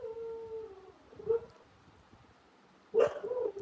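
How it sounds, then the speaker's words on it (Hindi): A single dog gives a drawn-out, howling bark, then a pause and another sharp yelp with a whine, heard from a short distance. "बाहर मेरा कुत्ता भौंक रहा है"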